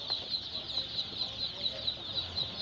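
Chicks peep in a steady run of high, thin cheeps, about a dozen evenly spaced calls close by over a faint room background.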